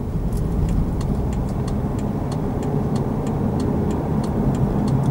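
A 2014 BMW X3 cruises on adaptive cruise control with Start&Go, giving a steady low road and engine rumble inside the cabin, with faint repeated ticking clicks over it and no talk.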